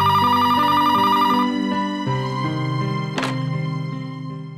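A telephone rings in a Marathi TV serial scene with a loud, melodic electronic ringtone that repeats in steady stepped tones and stays prominent throughout.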